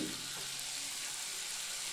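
Chicken biryani stirred in a cooking pot, a steady sizzling hiss filling the whole stretch with soft scraping movement underneath, close and continuous with no talk.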